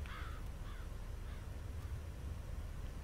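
Crows caw in F.E.A.R., a few rough calls near the start and fainter ones after, over a low constant ambient rumble.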